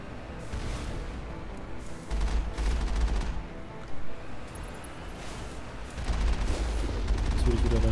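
Bursts of gunfire from the video game Mass Effect come in several loud clusters, with heavy low thumps between quieter stretches of game ambience.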